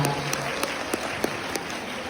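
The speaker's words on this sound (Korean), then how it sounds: "큰 박수 부탁드립니다." A short burst of applause from a small group at a wedding, steady and moderately loud, with a few sharper claps standing out.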